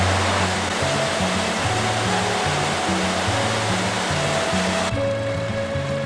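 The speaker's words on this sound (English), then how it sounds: "It's a beautiful river," A river flowing along the NC500 route in the Scottish Highlands gives off a loud, constant rushing wash with a steady low hum running beneath it and no talking.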